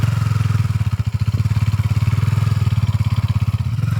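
Motorcycle engine labouring along a rough track, a loud close low-pitched throbbing putter with steady rapid pulses and slight dips in rhythm.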